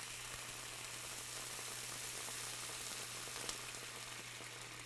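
Dry white wine poured into a hot pan for deglazing with tarragon chicken, giving a steady, close hiss and sizzle that runs evenly without a break, with small crackles over a low hum.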